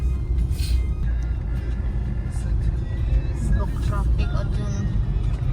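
Steady road traffic surrounds a car stuck in a queue, a continuous low rumble of engines with vehicles passing close by and a brief hiss like an air brake.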